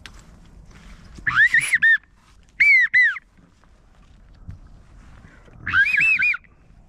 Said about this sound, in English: God, these widgeon are everywhere. Very chatty.